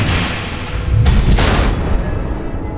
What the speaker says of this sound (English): The missiles.